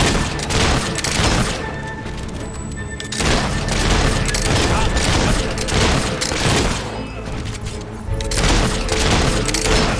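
Mortar fire and explosions in the fantasy game Fable 3, a dense continuous barrage of booming blasts and crashes, loud and close, with swells of heavier impacts throughout.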